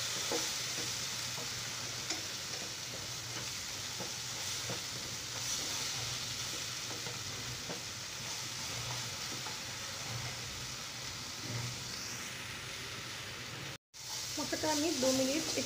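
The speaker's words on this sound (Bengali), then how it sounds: "মশলাটাকে তেলের সাথে খুব ভালো করে আমি একটু ভেজে নেব।" Spice paste for mustard hilsa fish frying in oil, a steady close sizzle with occasional stirring scrapes, while someone talks over it; a brief cut near the end.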